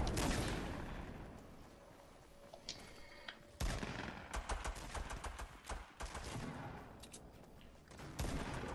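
Assault rifle gunfire in the battle royale game Fortnite, rapid shots and crackling bursts at close range with louder impacts in the second half.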